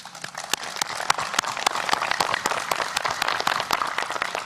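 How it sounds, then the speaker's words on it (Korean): Applause rings out in a press hall after a joint declaration by two Korean leaders at the 2018 inter-Korean summit. Steady clapping is layered with a rapid, rhythmic series of sharp camera-shutter clicks. "박수를 보냅니다"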